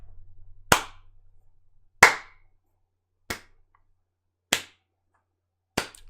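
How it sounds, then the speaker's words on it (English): Five loud, isolated hand claps spaced slowly and evenly, each ringing out alone in silence as a deliberate slow clap. "So I'd like everyone to join me now in a slow clap for me."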